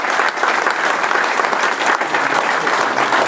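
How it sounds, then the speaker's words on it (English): Steady audience applause at a talk event, dense and sustained clapping throughout with no speech. "a round of applause for that happening"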